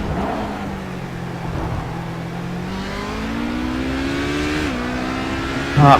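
Race car engine on the Le Mans circuit, a loud continuous drone rising steadily in pitch as the car accelerates, with a brief dip as it shifts and then climbs again, close and uninterrupted.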